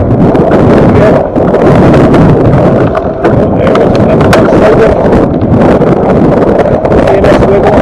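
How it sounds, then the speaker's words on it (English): Strong wind gusting over snow during a fat bike ride, a loud continuous roar and buffeting on the microphone that barely lets up, with a voice faintly under the noise. "the wind is blowing all the snow away"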